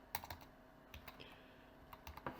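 Someone types on a computer keyboard while coding an authentication app, producing a short, close, irregular patter of key clicks with small gaps between bursts.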